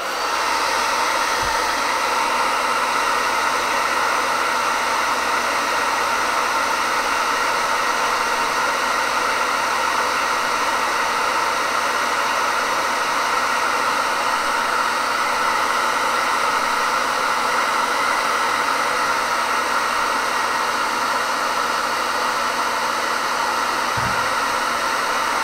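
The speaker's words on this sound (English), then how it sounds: "I'm going to hit the collage with the hair dryer" A hair dryer blows continuously at close range over a glued paper collage, a loud steady whooshing roar that barely changes from start to finish.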